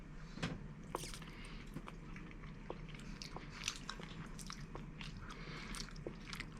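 Someone bites and chews Japanese candy up close, with soft crunches, squishy chewing and small smacking clicks at an irregular rhythm against quiet background noise.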